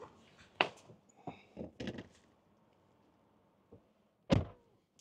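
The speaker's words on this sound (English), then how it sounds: "Close the door" A car door shuts with a firm, close thunk after charging at a Tesla Supercharger, preceded by a few quieter handling knocks and clicks in a quiet setting.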